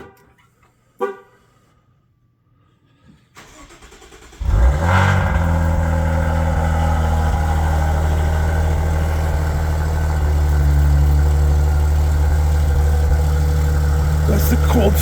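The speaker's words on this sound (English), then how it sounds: "That's the cold start. It's a Maserati." A Maserati Ghibli fires up from cold with a sharp starter crank and roar, then settles into a loud, steady, deep idle; a brief tap comes just before the start.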